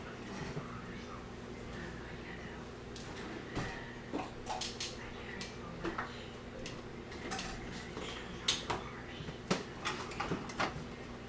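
Food is plated in a home kitchen: soft, scattered clinks of dishes and cutlery tap irregularly over a low room hum, getting a little busier and louder toward the end.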